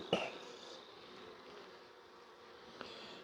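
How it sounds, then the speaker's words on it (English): Worker honey bee buzzing inside a queen cage during a colony assessment, a faint steady drone running throughout, with a brief louder buzz near the start and another near the end. "It's just a worker bee wandering around in it."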